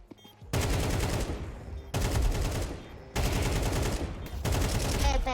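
Sustained automatic gunfire from a Counter-Strike 2 ranked match, loud and close, in several long bursts broken by short pauses, with a voice faintly present underneath.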